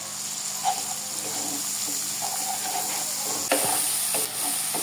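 Prawns and green banana fry in a pan with onion, salt and turmeric, a continuous low sizzle under occasional stirring scrapes and a couple of sharper knocks, close and steady.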